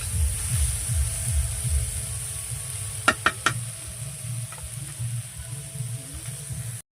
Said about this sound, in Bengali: একটু ভেজে নেবে ভালো করে, কাঁচা গন্ধটা যাতে না থাকে